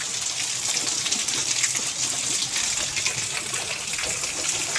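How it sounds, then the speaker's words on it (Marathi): Heavy rain pours down in a dense, steady hiss that stays loud and even throughout, with no voices. "आता भरपूर पाऊस पडालाय"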